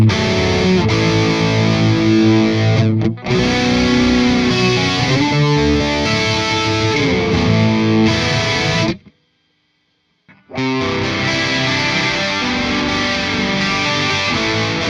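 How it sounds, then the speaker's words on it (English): Distorted electric guitar shimmering through a TC Electronic SCF stereo chorus, playing 80s-style riffs and chords, loud and continuous, with a short silent break before it resumes. "A lot of players made use of chorus with their distortion."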